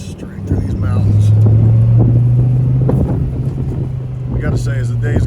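A Dodge Viper drives a winding mountain road between Julian and Ocotillo Wells, its engine a steady low drone under wind buffeting, with someone talking over it throughout.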